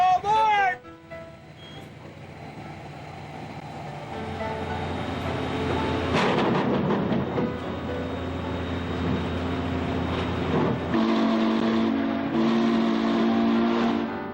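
A Western Maryland Scenic Railroad train at Cumberland opens with a whistle blast, then settles into a loud, steady rumble and clatter of rolling cars, with a voice heard over it.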